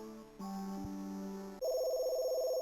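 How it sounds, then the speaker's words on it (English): A telephone rings inside a phone box, sounding as a steady electronic tone that shifts pitch partway through and grows louder and brighter near the end, with no voices. "Suddenly, it started ringing."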